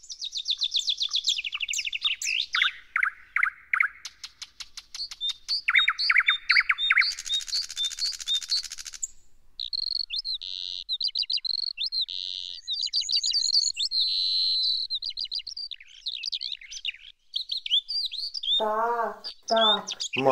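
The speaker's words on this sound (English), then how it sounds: "Bird." A songbird sings close by in a long, varied run of bright chirps, trills and quick tweets, separated by short pauses, with a harsher squawking call near the end.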